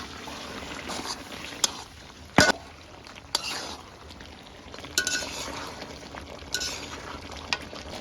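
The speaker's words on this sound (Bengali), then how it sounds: "এখন হাঁসের মাংসটা দিয়ে দেবো।" Duck meat stirred into a pot of spiced masala, with a steady sizzle and scraping spoon strokes, a few sharp clinks of utensil against the pot, close and fairly loud, no talking.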